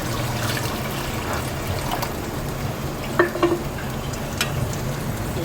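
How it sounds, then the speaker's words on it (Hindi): Water is poured into curry masala in a pan over a low flame, giving a steady soft sizzle and bubbling with a few brief clinks and splashes partway through. "मैं पानी ऐड करूँगी"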